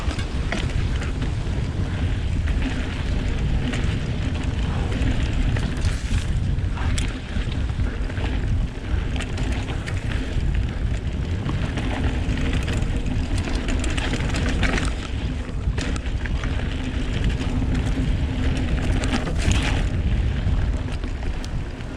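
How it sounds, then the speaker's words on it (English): Strong wind buffets the microphone during a mountain bike ride on a Voodoo Bizango, a loud continuous roar with gusting rumble and no voices. "At this point in the day, the wind starts picking up and the riding conditions start to worsen."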